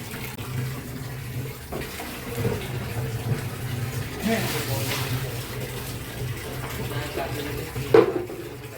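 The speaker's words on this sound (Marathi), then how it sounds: "आता इथं पाणी मार" Water splashes and runs steadily indoors during children's play at home, a continuous mid-level wash under overlapping young voices, with a brief louder splash near the end.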